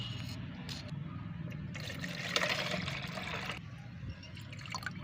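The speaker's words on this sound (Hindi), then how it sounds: "तो एक खाली जार में पहले मैं ये पानी डालती हूँ।" Rice wash water trickles and pours into an empty jar, a low continuous liquid splash that swells briefly in the middle before tapering off.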